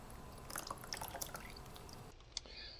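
An intaglio etching plate lowered face down to the surface of a water bath gives soft, close wet dripping and trickling sounds that end abruptly, followed by one small splash.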